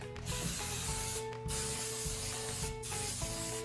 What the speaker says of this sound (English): Then I'm gonna take and I'm gonna spray these as well.